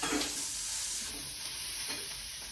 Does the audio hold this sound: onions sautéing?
yes